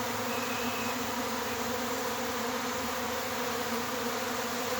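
A dense honeybee swarm drones in a steady, loud, continuous buzz from many insects at once, filling the air without pause.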